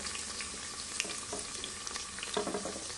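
Garlic and red onion sizzle and fry in a hot pan, giving a steady dense hiss with small crackles and occasional stirring scrapes, heard up close.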